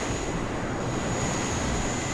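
Helicopters in the WARNO strategy game give a steady, loud, broadband rotor and engine roar that holds evenly throughout, with no talk.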